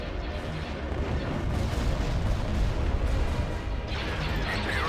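Sustained rumbling barrage of heavy starship cannon fire in the Empire at War space battle game, booming continuously at full strength with no clear gaps, a dense wall of low explosions and blasts.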